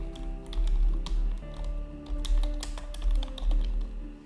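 Computer keyboard keys typed in quick, uneven bursts over a steady low hum, close and fairly clear, with no talking.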